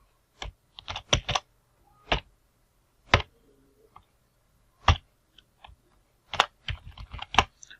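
Computer keyboard typing in a text editor while writing an HTML heading tag: short bursts of crisp, close key clicks with brief pauses between groups, no voice.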